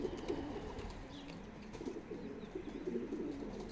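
Old-breed pigeons cooing, a run of low throaty coos repeating in soft rhythmic phrases over a steady background hum, fairly faint and close with no talking.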